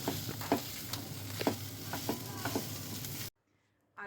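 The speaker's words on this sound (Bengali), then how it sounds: "এটাকে জাস্ট নাড়াচাড়া করবো, একটু শুকনো শুকনো করে এটাকে আমি নামিয়ে ফেলবো।" A spoon scrapes and stirs spiced potato filling for kochuri in a hot pan. Soft sizzling runs under several distinct scraping strokes, then cuts to near silence before a brief final sound.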